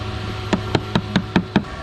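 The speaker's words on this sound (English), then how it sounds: "I'm just gonna start to chisel away a little bit of this material" Six evenly spaced sharp knocks, a mallet striking a chisel cutting away wood on a wooden boat, tap out a steady rhythm at close range.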